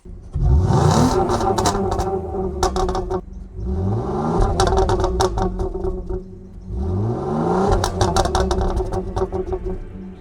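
A Citroën C5 3.0 V6 engine is revved in three loud, close bursts, each rising in pitch then falling away with a rattly exhaust note between pauses.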